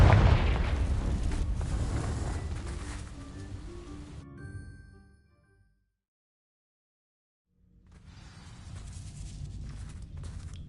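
Confringo blasting spell in Hogwarts Legacy setting dry vines alight, a loud booming blast that rumbles on and fades into several seconds of silence before crackling, rustling noise returns.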